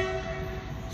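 A goods train passes over a bridge near a hidden railway station in the Godavari region, a continuous low rumble with a steady tonal drone throughout, close and fairly loud.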